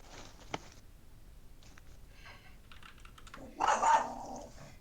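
A dog gives a short, fairly loud bark near the end, following a stretch of quiet computer keyboard typing in an indoor room.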